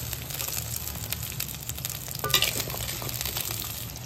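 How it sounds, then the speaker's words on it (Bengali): Jackfruit seeds and onion frying lightly in a pan, giving a steady soft sizzle with faint stirring scrapes and one brief louder clatter midway; no one speaks. "কাঁঠালের বিচিটা হালকা একটু ভেজে নেব।"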